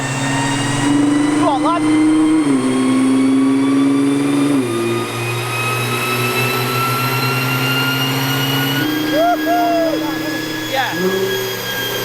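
A stage 2 Nissan R35 GTR engine warming up on a dyno, a loud steady drone with pitch steps as the revs shift, heard from close by while people talk briefly over it.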